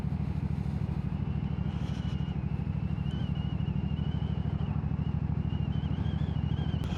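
A motorcycle on a test ride, its engine running steadily and close, with a constant low throb and rattle throughout and no one talking.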